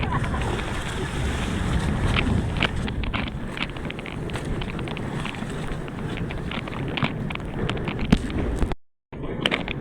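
Sea waves slosh and slap against a small fishing boat out at sea, a constant close wash with wind buffeting the microphone, before a sudden brief dropout near the end.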